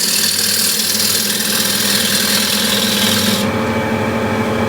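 A wood lathe spins as a tool cuts a taper into a bowl rim, making a loud, steady scraping rasp over a running motor hum. The bright cutting hiss cuts out abruptly near the end while the motor keeps going.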